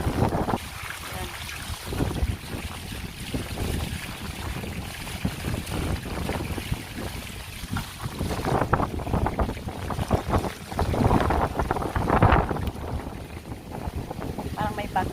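Strong wind off a rough sea on a rainy, stormy day in Bahrain sweeps past a balcony, a constant broad rushing roar with gusty swells and faint voices underneath.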